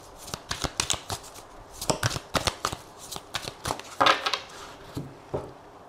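Tarot and oracle cards being shuffled up close in quick, crisp riffling bursts and flicks, repeated rhythmically for several seconds with no talking.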